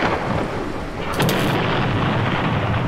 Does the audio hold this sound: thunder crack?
yes